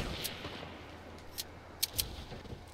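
A few sharp, faint gunshots from a scoped assault rifle in Fortnite Season 5 ring out against a low game ambience, with scattered distant cracks and two brighter shots near the end.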